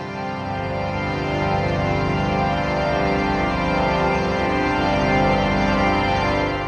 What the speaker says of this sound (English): That's the sound of Asia's largest organ.